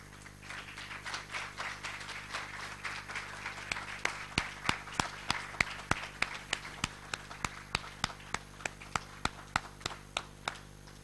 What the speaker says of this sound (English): can I ask all new students to please rise and for the rest of us to applaud them?